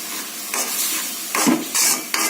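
A ground paste of green chilli, fennel, poppy seed and onion hits hot oil in a vegetable kurma pan, giving close bursts of sizzling and spattering with stirring in between.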